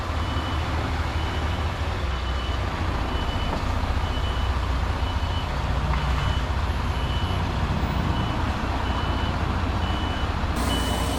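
A truck backing into a tight space sounds its reversing beeper in a steady repeating pulse over a loud, constant engine rumble, close by, with no voices.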